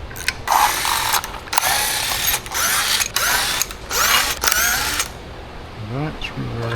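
Bolts are loosened on a Mercury 90HP outboard motor, with a series of loud bursts of mechanical ratcheting under short pauses, then quieter handling noises near the end.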